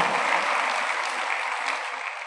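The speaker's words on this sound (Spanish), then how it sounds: "Fuerte, le aplaudimos a Dios." A church congregation applauding during a Sunday school service at a cathedral, a steady, full wash of many hands clapping, loud and close, with no voices.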